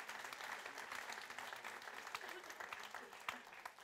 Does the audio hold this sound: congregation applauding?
yes